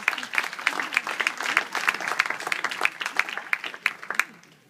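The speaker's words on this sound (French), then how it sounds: "J'aimerais qu'on les applaudisse très fort" Festival audience clapping for the Castelsong singers, brisk close applause with sharp individual claps standing out, continuous for a few seconds before tapering off at the end.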